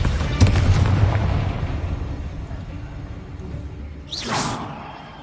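A Confringo fire spell explodes in the Hogwarts Legacy game, a bright whooshing blast near the end following a rumbling, busy stretch of combat noise, moderately loud and close with no talk over it.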